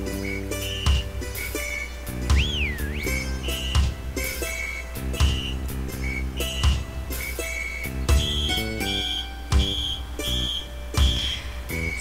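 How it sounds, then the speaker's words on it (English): Whistle played as a percussion instrument in the Wii Music video game: short, piercing, high whistle toots repeat in a regular rhythm over a thumping backing beat, with one brief upward-gliding slide. "the whistle is a perfect example of one of those percussion instruments that doesn't have a melodic feel at all"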